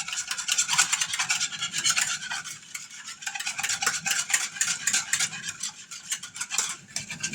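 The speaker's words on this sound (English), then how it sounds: "We're going to pour the powdered pectin into the juice, whisking it so it kind of helps it to dissolve a little bit." A whisk stirring powdered pectin into grape juice, a continuous rapid scraping and swishing against the pot, close and steady throughout with brief pauses, no talking.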